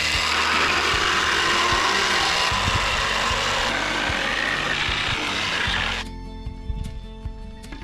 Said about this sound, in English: Whip out my saw.